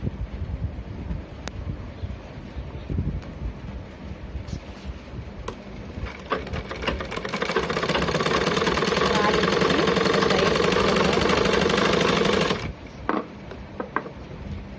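A sewing machine stitches a hook strip onto blouse fabric with a fast, steady mechanical whir that runs for several seconds in the middle. Quieter handling noises come before and after it.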